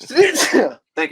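A person sneezes abruptly, a loud close burst, followed by a brief pause and a short spoken phrase from someone nearby in a casual podcast conversation.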